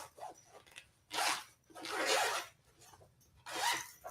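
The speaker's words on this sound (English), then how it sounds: "There's another zipper here" The zipper on a travel packing cube is pulled open in several short, rasping bursts separated by brief pauses, close and fairly quiet.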